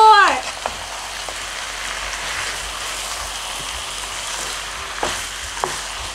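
Chicken with baked beans cooking in a pan gives a steady, close sizzle like light rain, with a few clinks and stirring scrapes over the bubbling.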